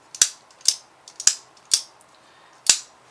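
A Ganzo G7393P folding knife has its blade lock worked five times in a row, giving crisp, close metallic clicks spaced roughly half a second apart in an otherwise quiet room.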